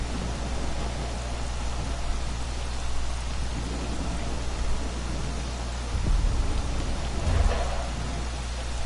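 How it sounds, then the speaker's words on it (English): A lightning storm in the video game Stalker: Call of Pripyat, with steady heavy rain hissing throughout and low thunder rumbles rolling in a few times, loud and enveloping. "It's just a lightning storm."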